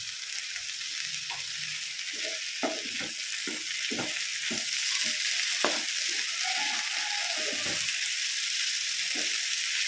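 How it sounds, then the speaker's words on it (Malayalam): Chopped tomato and curry leaves fry in a pan with a loud, constant sizzling hiss, while a spatula scrapes and taps in a quick irregular rhythm through the middle stretch. "ഇതിലേക്ക് ഞാൻ ഒരു ചെറിയ തക്കാളി ചെറുതായിട്ട് അരിഞ്ഞിട്ടു പിന്നെ അതിൽ കുറച്ച് കറിവേപ്പില"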